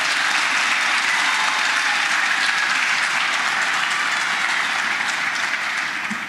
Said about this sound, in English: Let's give Retief a huge round of applause for that.